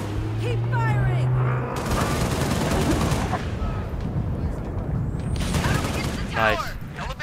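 Sustained weapons fire and explosions in the video game Halo Reach form a dense, loud roar throughout, with electronic game effects and voices layered over the battle noise.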